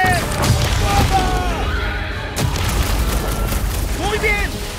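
Booming bursts and crackling blasts of fireworks in Marvel's Guardians of the Galaxy fill the clip, with sweeping whistles and tonal effects layered over a dense, continuous rumble.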